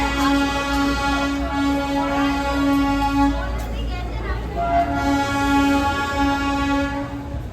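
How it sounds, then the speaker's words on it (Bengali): Darjeeling toy train horn sounding loud and sustained, with a gap mid-way, as the train arrives at the station, over steady rumble of the rail carriages and crowd chatter nearby. "ওই দেখো একটা ট্রেন সবাই বেরোচ্ছে।"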